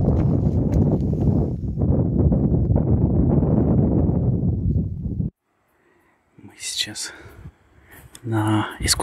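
Loud, gusty wind buffets the microphone for several seconds at an outdoor dinner in Namibia, then cuts out. Brief bits of speech and movement follow.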